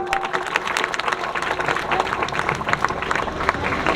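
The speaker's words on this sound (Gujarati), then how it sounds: "તાળીઓ." Applause from the audience at a Guru Purnima festival gathering in an ashram, steady dense clapping sustained throughout with crowd noise mixed in.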